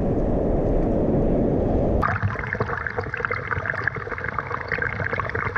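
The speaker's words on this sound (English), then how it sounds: "Big waves coming through now." Big ocean swell surges and breaks near a beach fishing spot, a loud broadband wash of churning water that drops suddenly after two seconds into a lighter, gurgling fizz of retreating foam.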